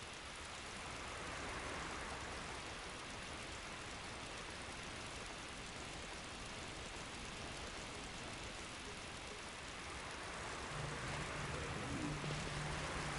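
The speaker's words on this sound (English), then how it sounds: "Oh, it's raining." Steady, even rain falls in the video game Final Fantasy XII, a constant hissing wash with a faint low rumble near the end.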